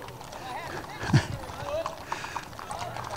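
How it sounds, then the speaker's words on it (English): Horses in a parade clop along on pavement, a scattered run of hoof beats with one sharper knock, heard at moderate distance under crowd chatter and people talking. "Oh, I'm going to get run over by horses, dude."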